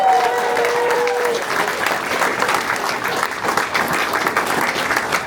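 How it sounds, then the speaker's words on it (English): A radio station studio audience breaks into steady, lively applause for a live band session, a close, full burst of clapping that continues throughout. "let's begin with applause on the count of three"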